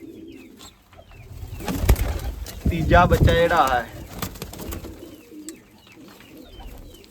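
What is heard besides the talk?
pigeons cooing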